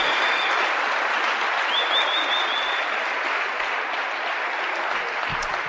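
Church congregation applauding the Lord during a sermon, a loud dense continuous wash of clapping with a faint shout or whistle partway through, no speech over it.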